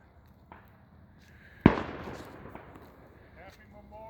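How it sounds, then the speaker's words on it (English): Fireworks launched nearby on the night before Memorial Day give one sharp loud bang that decays into crackle, with a fainter pop earlier and soft voices in the background. "Guys, there's fireworks."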